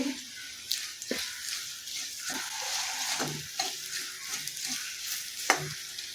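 Grated coconut roasts in a pan with turmeric added, a loud close frying sizzle broken by repeated sharp scraping and stirring strokes of a spoon against the pan.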